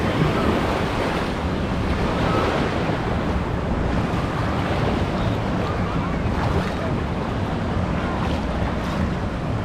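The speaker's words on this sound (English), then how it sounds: "Got a little swell running, Katie." Waves wash through the wave pool at Disney's Blizzard Beach water park in Florida, a steady loud surging rush blended with wind noise on the microphone.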